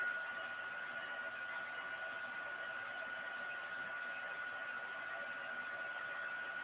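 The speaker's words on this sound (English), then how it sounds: "you want to make sure you're rotating that heat tool so that you don't get too much heat in any one spot" A heat embossing tool blows hot air during card making, giving a steady, close whooshing rush with a thin constant whine that holds unbroken for several seconds.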